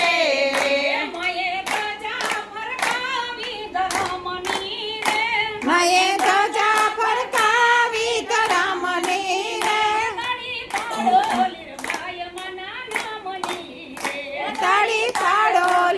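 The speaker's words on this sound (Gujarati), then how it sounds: "તાળી પાડો લીરબાય મના નામની રે" Devotees at a satsang clapping in time to a Gujarati devotional song: sharp, evenly spaced hand claps keep a steady beat beneath a group of voices singing a melody, fairly loud and close.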